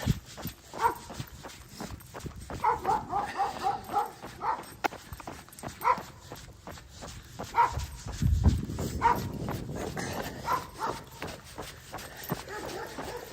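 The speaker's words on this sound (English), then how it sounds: "Every time we come by here, this German Shepherd barks at her." A German Shepherd barks repeatedly from a moderate distance, beside a steep road near a highway, with footsteps and outdoor noise running throughout.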